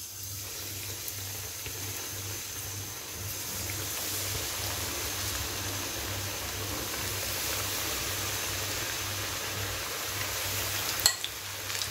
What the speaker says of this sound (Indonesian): di sini minyaknya sudah panas, aku langsung saja mau goreng